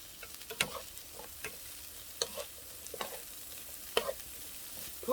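Water dropwort and onion stir-fried in a pan over low heat, a soft constant sizzle broken by irregular scraping and clinking of the spatula, close and fairly quiet.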